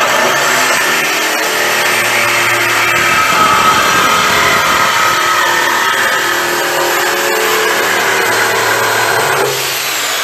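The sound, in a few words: saw cutting exhaust pipe with new blade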